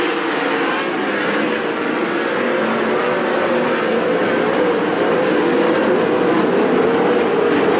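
410 sprint cars race around the Attica Raceway Park dirt oval in a continuous loud engine roar that holds steady throughout, with the pitch shifting slightly as the cars pass.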